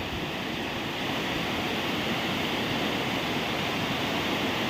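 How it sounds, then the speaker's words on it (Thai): Floodwater rushing and flowing hard during heavy rain in Kusuman district, Thailand, a loud unbroken roar that holds steady from start to finish, with no speech. "น้ำไหลมาก น้ำไหลแรงมากครับผม"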